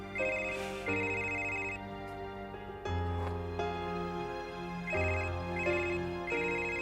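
A mobile phone rings with a repeating melodic ringtone, each musical phrase cycling clearly and steadily at moderate volume with no voices over it.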